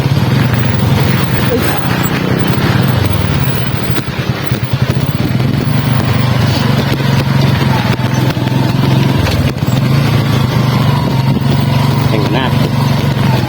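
A motorcycle idles nearby outdoors with a steady low throb that stays constant throughout, while people talk over it.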